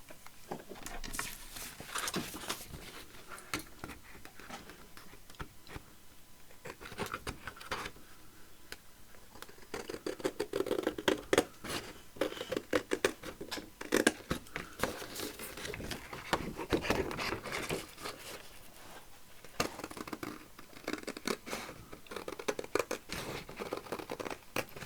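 Paper tag for a Tim Holtz craft project being trimmed, with close crinkly snips and scratchy paper rustles coming in irregular bursts, busier in the second half, and no talking.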